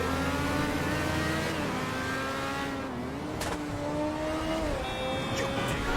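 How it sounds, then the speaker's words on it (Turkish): A Formula 1 car engine in GTA V drives on an ordinary road, its high-pitched whine held steady and dipping with gear and throttle changes, loud and close, with faint squeals and background noise. "Normal yolda Formula 1 arabası sürüyorum."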